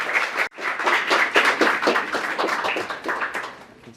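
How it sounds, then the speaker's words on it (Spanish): Close, fairly loud audience clapping welcoming a speaker at an arbitration conference panel, dense rhythmic claps from a modest crowd, briefly dipping near the start and easing off toward the end. "recibamos al doctor Jorge Danos con un fuerte aplauso"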